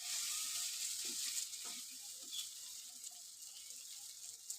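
Food fries in a pan with a soft, steady sizzle that holds for several seconds, with a few faint stirring bumps and no talking.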